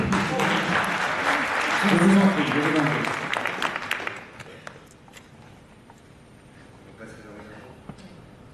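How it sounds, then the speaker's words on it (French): Applause from an audience at the end of a talk, dense and fairly loud for about four seconds before fading into scattered claps and room noise, with someone speaking briefly over the tail. "Les applaudissements"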